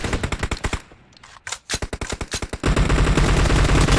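Automatic gunfire in the shooting video game PUBG, with rapid bursts of sharp shots, a short lull, then a dense sustained stream of fire that grows louder toward the end.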